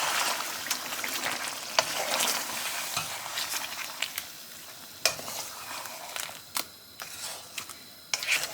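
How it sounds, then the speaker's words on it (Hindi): Chicken karahi ingredients stirred in a pan: a soft continuous sizzle with repeated scraping and clinking utensil strokes, some sharp clacks standing out, fairly quiet and close, with no voices. "अब इन चीज़ों को मिक्स कर देंगे।"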